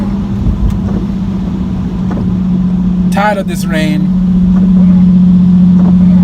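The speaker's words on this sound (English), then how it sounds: "Y'all can hear that drone right there." A Nissan 370Z with a muffler delete cruises in manual mode, its exhaust holding a steady low drone throughout while someone talks over it.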